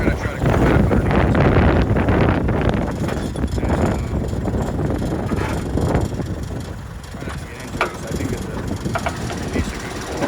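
Gusty wind buffets the microphone outdoors beside a Jeep CJ5 tub, a steady loud rumble throughout with some mechanical noise mixed in.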